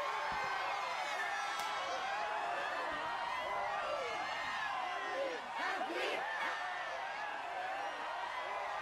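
A crowd in Dragon Quest XI cheers a champion, a steady, fairly quiet game roar of massed voices with scattered whoops, running under someone speaking over it.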